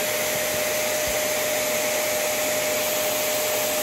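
Kenmore Elite 21814411 vacuum cleaner running steadily with air leaking at the nozzle, a constant loud whooshing roar with a thin high whistle, continuous throughout with no talk.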